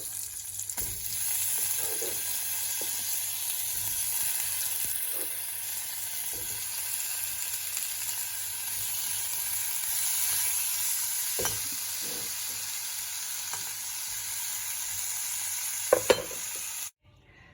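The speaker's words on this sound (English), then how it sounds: "And in this, I'm going to add these chopped tomatoes." Chopped tomatoes fry in a pan for tomato peanut chutney, producing an even, sustained sizzle with occasional light stirring scrapes, before the sound cuts off abruptly at the end.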